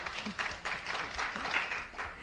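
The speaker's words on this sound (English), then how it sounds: "They're applauding you." An audience applauds during a question-and-answer session at a public forum on US policy in the Middle East: steady, dense clapping from a crowd that continues throughout, moderately loud and somewhat distant.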